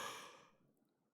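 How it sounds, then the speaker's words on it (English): A single big yawn exhales breathily, airy at the start and tapering into a faint, quiet fade. "Big yawn."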